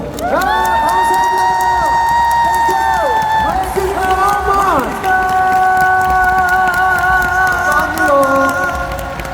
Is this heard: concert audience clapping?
yes